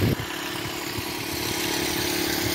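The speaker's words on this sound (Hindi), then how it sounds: "अब जो है अपना ट्रैक्टर आखिरी टाइम है, लास्ट टाइम जो है चलने वाला।" A tractor engine runs steadily at close range, a continuous low mechanical drone with a throbbing idle, heard alone without talk outdoors.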